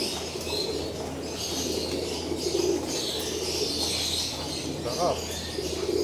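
Pigeons in a loft or aviary, with soft cooing and occasional wing flutters against steady chirping and background hum, moderately close and continuous throughout.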